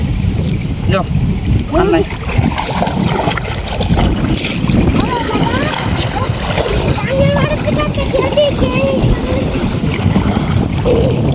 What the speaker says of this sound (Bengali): আজকে খালি বাতাস আর বাতাস দিন কত সুন্দর বাতাস